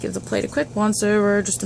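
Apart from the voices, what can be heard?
No everyday noise stands out behind the speech.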